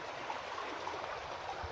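Clean water runs steadily through an old British-era canal near Kyari village, Ramnagar, Uttarakhand, a soft continuous trickle and gurgle at close range with no voices.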